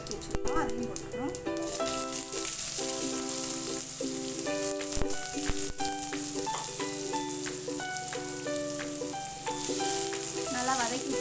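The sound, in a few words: onions frying in oil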